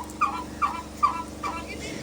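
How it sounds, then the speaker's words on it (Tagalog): A turkey on a farm in Badoc gives a run of four or five short, evenly spaced gobbling calls at moderate distance, with no talk over them. "Dahil nakita ko yung pabo na yan."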